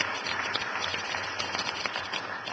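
An assembly session audience breaks into applause, a dense, steady wash of many hands clapping in a hall, loud and continuous with scattered sharper claps throughout.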